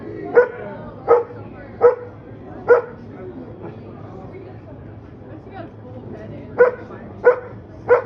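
A dog at a house show barks in sharp, loud single woofs, a few irregular clusters with a quiet gap between, heard up close over a low background hum with no talking.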